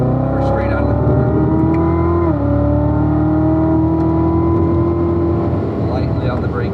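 A Corvette engine drones loudly from inside the car on a track, its pitch rising and falling as it accelerates out of a corner, with someone talking over it.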